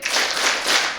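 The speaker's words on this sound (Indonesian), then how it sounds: "tepuk tangan untuk kita semua ya" A health seminar audience clapping, a brief dense burst of many hands applauding close by, lasting about a second.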